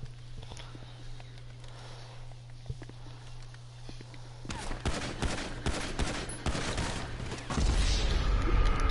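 Rapid bursts of pistol gunfire from a PS4 video game crackle in quick succession, growing denser and louder in the second half over a steady background hum.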